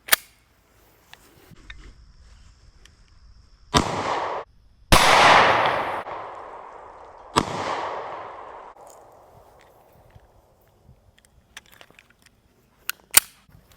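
A Taurus G2C 9mm pistol fires full metal jacket rounds at pumpkins outdoors: a few sharp, loud cracks seconds apart, each trailing off in a ringing decay, with quiet gaps between and no talking.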